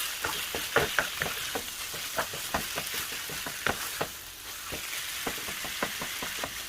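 Chicken pieces fry in a pan with garlic and ginger over high heat, giving a steady loud sizzle. Irregular crackles and pops run throughout, with no talking.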